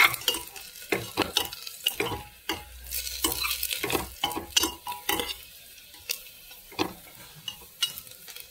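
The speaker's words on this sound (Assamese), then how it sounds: "এতিয়া ইয়াত মই লং ইলাচি দালচেনি আৰু তেজপাতখিনি দি লৈ পেলাই অলপ" Cloves, cardamom, cinnamon and bay leaves fry in oil over a low flame while a spoon stirs and scrapes, giving repeated sharp clicks and knocks over a light, close sizzle.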